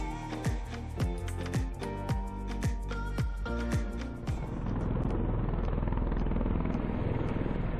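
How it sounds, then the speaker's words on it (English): A military Osprey tiltrotor aircraft circles overhead near a boat anchorage, its rotors throbbing in regular heavy pulses before blending into a steady, loud engine roar. "I believe these are Osprey helicopters, and for about an hour and a half they were circling around the anchorage"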